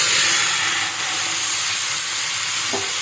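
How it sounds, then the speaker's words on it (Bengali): Chopped tomatoes hit a hot pan for a Bengali chutney, giving a loud, steady sizzling hiss that fills the whole stretch, with a brief clatter near the end. "দিয়ে দিলাম কেটে রাখা টমেটোগুলো"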